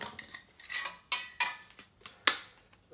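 Metal taps on a lid while sorting weighted 925 silver scrap: a few sharp, close clinks spaced irregularly, the last one loudest, with no voices.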